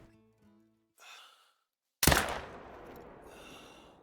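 A single AR-308 rifle shot at a deer in the hunting game Call of the Wild, one sharp loud crack followed by a long rolling echo, after a soft breath.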